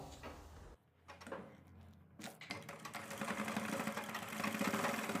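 A domestic sewing machine stitches elastic onto the waistband of umbrella palazzo fabric, its motor whirring in a steady run that stops briefly, then resumes and builds louder and more continuous toward the end.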